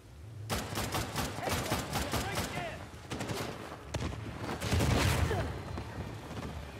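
Enemies fire on the player in Uncharted: Lost Legacy with dense, rapid gunfire, overlapping machine-gun bursts and heavier blasts heard as a continuous battle under and between voices.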